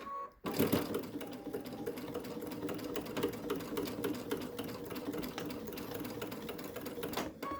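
A sewing machine stitches a fabric face mask, running in a steady, close, continuous whir after a brief start, with no talking.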